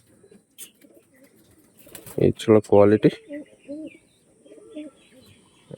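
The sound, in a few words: pigeons cooing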